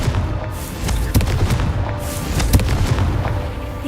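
Confringo explosion spell cast in the Hogwarts Legacy video game, a loud, dense run of booming blasts and crackling bursts that fill the whole clip with rumbling, fiery impacts.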